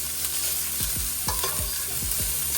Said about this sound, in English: So I'm just sauteing this